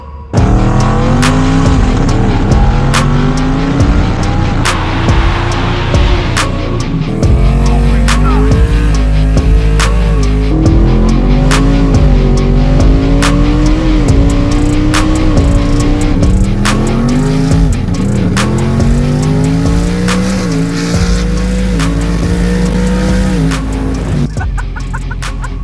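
A twin-turbo Ford F150 truck tuned to around 1,000 horsepower accelerates hard through repeated gear pulls, its engine note climbing and dropping in a rising sawtooth pattern, with loud tire squeal running throughout.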